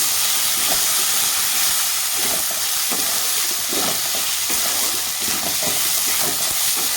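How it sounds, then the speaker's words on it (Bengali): Soaked rice fries in a pan with a loud, dense hissing sizzle that continues without a break, along with faint scraping of stirring, close up with no voices. "তো চালটাকে আমি ভেজে নেব সুন্দর করে"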